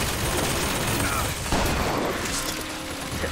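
A machine gun turret in Bioshock Infinite unleashing a dense, continuous burst of rapid gunfire, loud and close, with game noise layered throughout.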